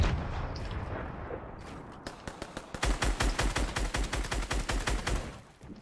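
Rapid automatic gunfire in an online shooter game, with bursts of loud, evenly spaced shots that grow denser and more continuous after a scattered start.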